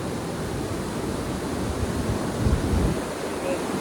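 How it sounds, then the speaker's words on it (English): A waterfall on an Appalachian stream runs high with extra water, producing a constant, full roar of rushing water that fills the air with a steady broadband hiss and rumble. "It's normally a waterfall, but normally it's not as much water."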